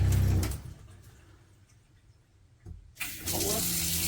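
Hot water runs from a newly installed black tap over a sink, a steady splashing flow at the start, then a quiet gap with a brief knock before the stream resumes loudly and continuously near the microphone.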